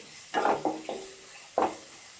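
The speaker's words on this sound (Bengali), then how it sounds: "ভালো করে নাড়াচাড়া করে একটু লাল লাল মতন করে ভেজে নিতে হবে এই কচুর ফুল" Taro flowers stirred and frying in a pan, with several short bursts of scraping and sizzling separated by brief pauses, close and moderately loud.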